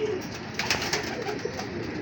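Pigeons kept in a loft or breeding pen coo in low, soft murmurs, close by and steady over a faint background hum.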